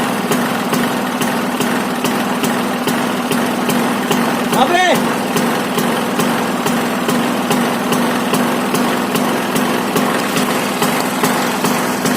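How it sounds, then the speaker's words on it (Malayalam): A Bajaj Discover 150 motorcycle idles after a cold start, its single-cylinder engine thrumming in a steady, even, close rhythm throughout, with a short voice briefly heard over it. "ഗൈസ്, അങ്ങനെ വണ്ടി സ്റ്റാർട്ടായിട്ടുണ്ട്. വണ്ടി ഇതാ കോൾഡ് സ്റ്റാർട്ടാണ്."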